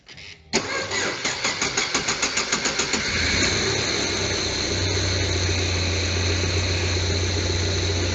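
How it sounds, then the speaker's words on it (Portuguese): A car engine cranks slowly with a steady rhythmic starter churn for a few seconds, then catches and settles into a loud, even idle heard close up during a battery and grounding test. "O carro demorou muito para pegar, tá?"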